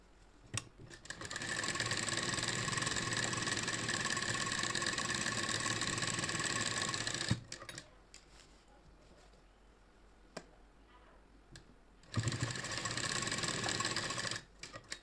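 A sewing machine stitches a kurti made from an old saree in two bursts: a long run of steady mechanical whirring, a quiet pause with small clicks, then a shorter run.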